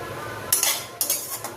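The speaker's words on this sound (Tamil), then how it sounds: "அந்த பன்னீரை தான் வதக்க போகிறேன். நல்லா ஃப்ரை பண்ண போகிறேன்." A metal spoon scrapes and clinks against a pan of frying paneer cubes in a few quick strokes, with a soft background hiss of frying.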